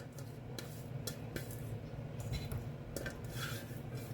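Seasoning is mixed into an oyster salad in a bowl, with soft scraping and clinking of a utensil against the bowl in scattered taps, quiet and close with no talking.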